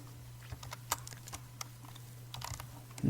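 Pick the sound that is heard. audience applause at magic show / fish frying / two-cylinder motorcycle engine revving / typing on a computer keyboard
typing on a computer keyboard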